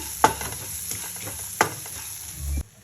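Garlic chutney ingredients stirred and roasted in a pan, with two distinct scrapes of the spoon over a steady, close sizzle that cuts off abruptly.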